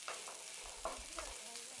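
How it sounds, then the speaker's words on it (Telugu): Beaten egg mixture for Kodigudla Ukkuru being stirred in a frying pan until dry and crumbly, a quiet sizzle under a few soft spatula scrapes and taps. "తడిపోయే వరకు, అంటే పొడి పొడిగా వచ్చేంత వరకు అలా కలుపుతూనే ఉండాలి"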